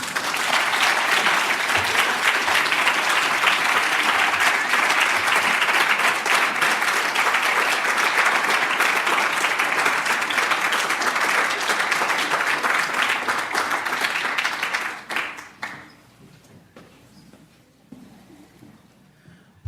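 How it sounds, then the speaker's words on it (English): Sustained audience applause follows a poetry reading, a dense, even wash of clapping from a seated crowd that holds for about fifteen seconds, then tapers off sharply into a quiet room. "One more round of applause for Danielle"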